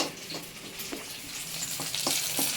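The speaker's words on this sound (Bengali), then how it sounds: "এই যে লঙ্কাটা দিয়ে দিচ্ছি ভাজা হোক" Green chillies and leafy greens fry in oil with a soft, continuous sizzle, broken by scattered stirring scrapes and light clicks from the pan, heard close and alone without talk.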